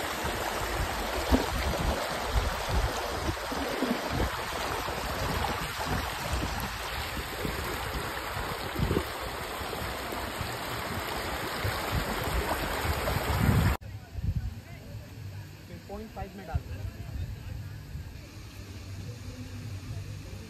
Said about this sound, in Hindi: ये देखो भाई यहाँ से झरना, बहुत सारा झरना है